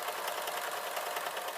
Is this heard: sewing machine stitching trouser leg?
yes